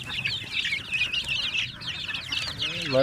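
A mixed flock of Rhode Island Red and Decal Brown chickens on a farm clucks and chatters continuously, many hungry birds calling at once, close and fairly loud.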